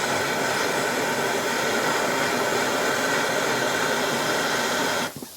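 A torch roars in a steady, loud hiss while heating a stuck brake line nut on a Barracuda, continuous broadband rushing that cuts off near the end.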